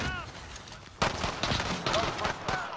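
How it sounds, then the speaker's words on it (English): Pistol gunfire in the Call of Duty: Modern Warfare video game cracks out in a rapid string of close, sharp shots, after a softer opening with muted game sounds. "Let's use my new gun. My new pistol."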